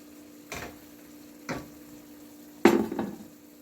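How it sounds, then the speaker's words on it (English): Cooked ground beef tipped into a hot pan for a pasta dish and stirred, giving three separate soft scraping, sizzling bursts over quiet kitchen hum, the last one loudest. "I'm going to add the meat, the ground beef that it's already done. Goes in."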